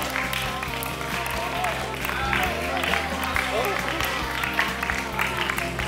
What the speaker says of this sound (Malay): Jadi so, tepukan untuk Ibu Sarida